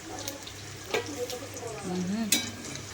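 Green chillies and curry leaves fry in a pan for chivda, giving a steady soft sizzle with occasional clinks of stirring, heard close and fairly quiet under faint background sounds.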